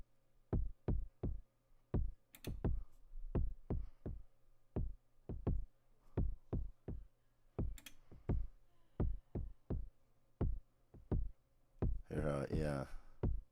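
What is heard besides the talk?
Perkons HD-01 drum machine playing groove pattern with ghost kick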